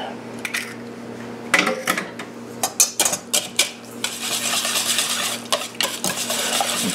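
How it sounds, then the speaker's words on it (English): A spoon stirs manicotti filling with egg and nutmeg in a bowl, scraping and clinking against the dish in irregular bursts, close and fairly loud over a steady low hum, no talking. "Get this all mixed together"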